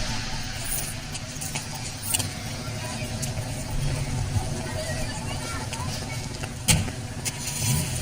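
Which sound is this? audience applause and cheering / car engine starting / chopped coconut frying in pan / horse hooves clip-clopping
car engine starting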